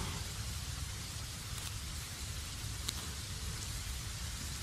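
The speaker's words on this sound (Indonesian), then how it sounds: "Ya, hujan." Rain falling outdoors, a faint, steady hiss of drops on surfaces with a couple of brief louder taps, distant and continuous without talk.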